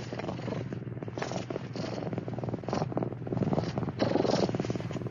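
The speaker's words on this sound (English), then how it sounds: "soon began to rumble with a deep purr." A Bengal tiger's deep, steady rumbling purr, continuous and close, pulsing gently with each breath and no voices over it.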